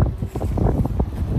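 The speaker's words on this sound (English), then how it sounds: "It's just windy." Gusty wind buffets the microphone in uneven low rumbles and thumps, fairly close and loud, with no voices.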